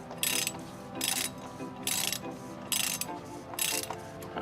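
Ratchet wrench on a small extension loosening the oil drain plug of a diesel truck, five bursts of quick metallic clicking at a steady rhythm, close and fairly loud, with brief pauses between swings.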